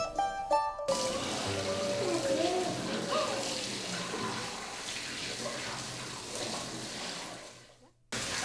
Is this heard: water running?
yes